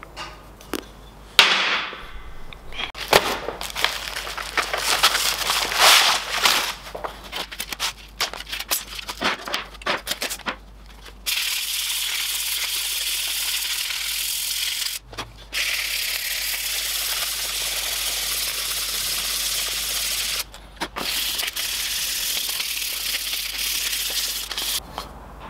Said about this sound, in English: now I'm going to move over onto the sandpaper, hand sandpaper, and take it up to 180